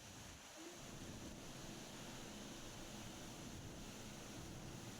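Flash-flood water rushes over a waterfall in a forest river with a continuous broad roar and wind-like hiss, steady and distant, with no voices.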